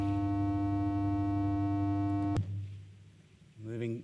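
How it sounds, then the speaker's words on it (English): A steady electronic test tone hums loudly and evenly for a little over two seconds before it cuts off abruptly, then someone speaks briefly. "So that's a 100 hertz tone."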